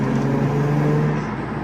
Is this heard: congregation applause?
no